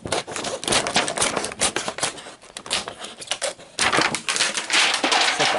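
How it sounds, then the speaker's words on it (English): Scissors cutting across a piece of leatherette, a close run of quick crisp snips and rustles in an uneven, busy rhythm with no voices. "I'm just going to take a pair of scissors and cut this off here."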